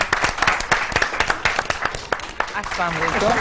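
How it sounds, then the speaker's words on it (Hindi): An audience on an Iftar entertainment broadcast claps to welcome a guest, sharp individual claps loud and near, then fading as a voice begins speaking over the last of it. "इनका तालियों के साथ इस्तकबाल करेंगे"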